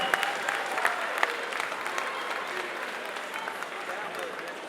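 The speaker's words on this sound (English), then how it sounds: "I think that deserves the biggest round of applause so far tonight for our young artist Kazeem." A crowd at an event applauds an 11-year-old painter, with steady, lively clapping and a few sharper claps standing out, continuing evenly throughout.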